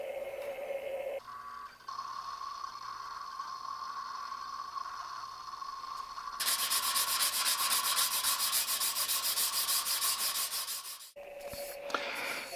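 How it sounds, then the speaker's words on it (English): Wooden hammer handle on a farrier hammer being sanded to 340 grit, a steady continuous rubbing rasp that grows louder and brighter midway, then stops abruptly near the end. "I sanded the handle to 340 grit"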